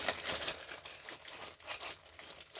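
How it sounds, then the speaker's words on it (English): A plastic bag crinkles around a slate turkey call, giving soft, close crackles and rustles in a short, irregular burst. "I keep these in plastic bags"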